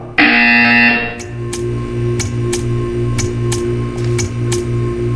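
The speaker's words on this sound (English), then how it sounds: "You will hear a buzzer." A buzzer in the video game Portal 2 opens with a loud harsh tone lasting about a second, followed by a low electronic hum carrying a steady series of short sharp ticks.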